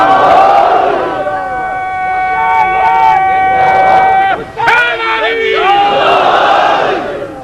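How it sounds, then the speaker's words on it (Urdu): A large gathering at a religious majlis loudly chants salawat in unison, a dense chorus of voices rising in waves, briefly dipping mid-way before swelling again, close and loud. "اتنی بلند صلوات بھیجے محمد آل محمد"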